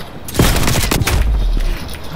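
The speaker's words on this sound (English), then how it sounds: "Semtex going out." A Semtex grenade in Call of Duty Cold War goes off in a loud, close blast followed by a sustained rolling rumble that fades out within a couple of seconds.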